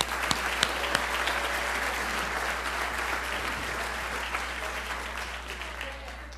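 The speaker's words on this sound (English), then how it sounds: "A round of applause for them." An audience at a student recognition awards ceremony applauds a performing quartet, steady and sustained, with a few sharp nearby claps early on, over a low steady hum.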